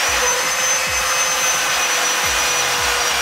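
A drill with a good bit runs steadily at high speed in a shop being fitted out, a dense continuous whine close by with faint low knocks underneath, no talking.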